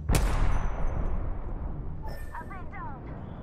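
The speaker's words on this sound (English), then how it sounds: "Hello, I'm getting shot at." A single loud, sharp gunshot in the video game Apex Legends that booms and fades, followed by faint chirping game sounds and a voice speaking near the end.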